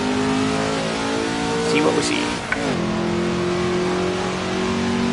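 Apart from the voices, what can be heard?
Ford GT40 engine revving in Assetto Corsa video game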